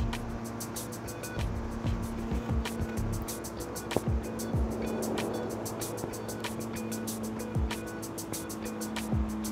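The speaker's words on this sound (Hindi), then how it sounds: "अंदर से गाड़ी चला रहे।" A car engine drones steadily while driving, heard from the cockpit view in CarX Street, with a sustained hum and occasional low thumps under a faint ticking rhythm.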